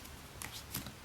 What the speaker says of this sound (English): shuffle 1 epidemic card into each deck individually